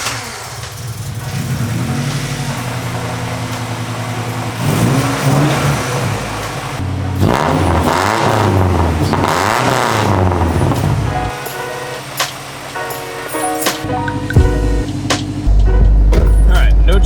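A Honda Civic EG coupe engine idles, then revs and pulls away, rising and falling through gear changes, with a voice briefly heard.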